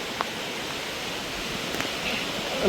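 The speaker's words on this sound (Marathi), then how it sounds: "हा आहे राईचा धबधबा राई वॉटरफॉल" Rai waterfall in the Sahyadri hills near Fofsandi, heard as a steady, broadband roar of falling water, moderately distant and continuous throughout with a slight swell toward the end.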